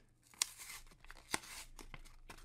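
Plastic and cardboard packaging of a Hot Wheels Ford Sierra Cosworth toy car is tugged and torn close up, a few sharp rips and crinkles amid quiet rustling in an otherwise hushed room.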